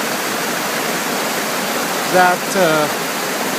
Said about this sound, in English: So a huge amount of water comes out from